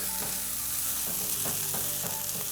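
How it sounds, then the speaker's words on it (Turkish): Rice pilaf being stirred in a pan, a spoon scraping and turning the grains in several rhythmic strokes over a steady sizzle, close and clear with no talking. "Pilavı karıştırırken pirinci kırmamaya özen gösteriyoruz."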